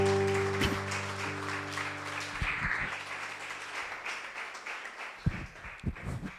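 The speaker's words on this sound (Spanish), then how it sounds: "Dale un fuerte aplauso al Señor en esta mañana." A Spanish-speaking church congregation applauds during a morning service. Sustained tones fade out beneath a rising, scattered patter of clapping, with a few sharper, louder claps near the end.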